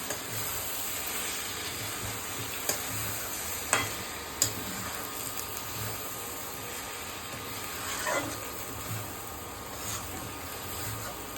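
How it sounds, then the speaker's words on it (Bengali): Cabbage curry with garam masala powder is stirred in a pan over soft, continuous sizzling, with a few sharp clicks of the spoon against the pan. "গরম মশলা গুঁড়োটা দিয়ে দিলাম। এবার একটুখানি নেড়ে আমি নামিয়ে নেব।"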